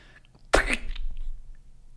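A single loud, close sneeze bursts out abruptly, followed by a short breathy tail fading into quiet.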